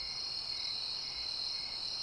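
Crickets chirp at night in a steady, unbroken high trill, fairly quiet and even, with no other sounds around them.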